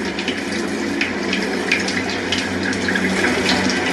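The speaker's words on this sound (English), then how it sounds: "As Michelle was taking a shower" A shower runs with a steady, close hiss of falling water that is fairly loud and unbroken from start to finish, with no voices.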